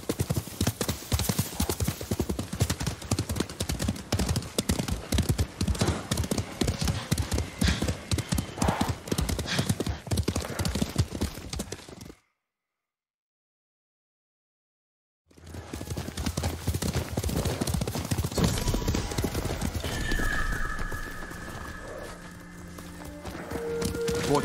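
Horses galloping in Ghost of Tsushima, a dense rapid clip-clop of hooves with a whinny, loud and continuous, breaking off for a few seconds of silence before the galloping resumes with faint voices.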